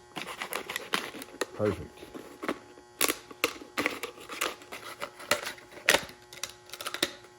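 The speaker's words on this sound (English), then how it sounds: "I'm going to cut the top off of it so we can pour the contents in here" Scissors or a blade cut the top off a plastic bottle that held oil from a car's oil catch can, making a string of sharp clicks and crinkly snips while a person speaks briefly.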